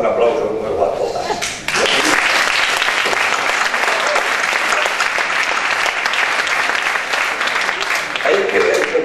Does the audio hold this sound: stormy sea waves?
no